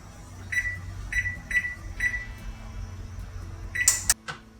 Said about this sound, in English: First thing, we're going to turn on our oven